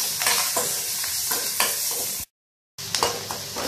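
Onions, curry leaves, green chilli and ginger sizzle and sauté in a pan, a steady close frying hiss broken by repeated stirring scrapes, with a brief cut to silence midway before the sizzle resumes.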